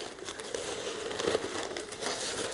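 Rolled-up paper slips are stirred around inside a jar, producing a continuous dry rustling and crinkling at close range with no talking.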